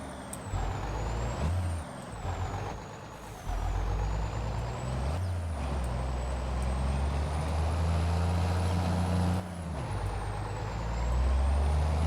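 Volvo truck with a 425-horsepower engine pulling a pup trailer, its diesel rumbling steadily close by while air brakes hiss in sharp releases, with a thin high whine running above the low engine drone.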